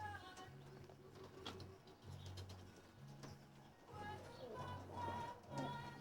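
Medium-sized pigeons coo in repeated low, rounded phrases from a loft, with faint background chatter and occasional soft bird sounds.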